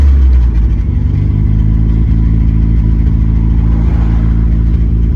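An MG engine with a leaking exhaust runs loud and steady right after starting, a coarse close-up drone with clattering pulses throughout and no voices.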